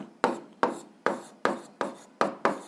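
Handwriting with pen on paper while working an algebra exercise: six quick, evenly spaced scratchy strokes, each a sharp onset fading out, close and alone.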